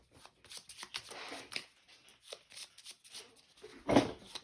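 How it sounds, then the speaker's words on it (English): A small deck of cards from the Shifting Stones board game being shuffled by hand, a run of quick riffling and rustling bursts with short pauses between them, close and fairly clear, with no talking. "I'm going to give these a good shuffle"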